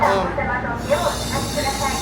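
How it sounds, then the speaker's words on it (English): A Japanese bullet train runs at speed, heard from inside as a steady loud hiss and rumble with rail noise, while voices murmur in the background. "this is literally like that movie with Brad Pitt, where he's like running on the bullet train"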